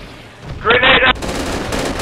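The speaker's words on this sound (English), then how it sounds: "He's firing!" Automatic gunfire in the Project Reality v0.95 counter-insurgency mode on the Fallujah map: a dense rattling burst cuts off abruptly, followed by steady loud battle noise, with voices audible under it.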